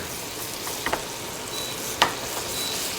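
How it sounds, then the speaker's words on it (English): Sugar caramelizing in a pan gives a steady, soft sizzle with a couple of brief clinks or taps partway through, all fairly close with no voices. "we wanna create this caramel in the pan."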